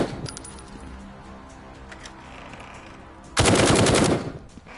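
Gunfire in the VR shooter game Firewall VR: a few sparse clicks and pops, then a loud dense burst of shots near the end, with no talk.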